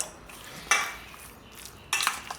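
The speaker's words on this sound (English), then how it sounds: "Just gonna mix that baking soda with the ribs here." Chopped pork ribs for Cantonese crispy sesame ribs being mixed with baking soda in a bowl, two brief clinks of a utensil against the bowl over a quiet, soft background.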